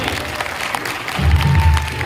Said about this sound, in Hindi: एक बार जोरदार तालियां बजाइए राहुल सर के लिए